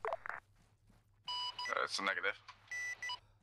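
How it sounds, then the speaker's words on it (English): An electronic alarm or siren beeps in a series of sharp, repeated tonal bursts, some long and some short, loud and close, after a brief spoken phrase. "We hear some sort of a siren slash alarm."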